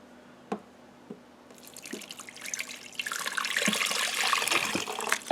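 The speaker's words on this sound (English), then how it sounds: "So now I'm going to pour my 1 cup of liquid in there." Liquid, including hot banana pepper ring juice, pours into a pot for a pulled brisket, starting with a few faint drips and swelling into a steady, splashing stream over the last few seconds.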